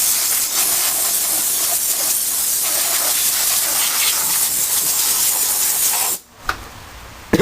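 Compressed air blowing from an air compressor in a steady loud hiss that runs nearly the whole time, then cuts off abruptly near the end, followed by a brief pop.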